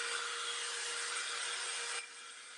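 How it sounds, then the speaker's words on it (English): A dryer blows steadily onto a painted Valentine's craft tray, giving a continuous, close airy whoosh that drops to a softer level near the end. "Let's hit this with the dryer again"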